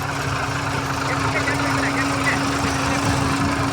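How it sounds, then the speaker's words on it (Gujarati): A tractor engine runs at a steady, close, droning idle during a groundnut harvest, its low throb constant with no pauses. "મિત્રો, આ ટ્રેક્ટર છે"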